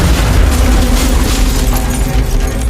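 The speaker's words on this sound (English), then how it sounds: "The bombs detonate upon opening" A mail bomb detonates as its package is opened, producing a loud, sustained blast with a deep rolling rumble and crackling debris that fills the whole moment.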